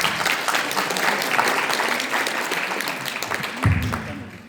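A room full of Lions Club members at a district officers' training session applauds steadily to welcome a guest lecturer, a dense, even patter of many hands that swells briefly near the end.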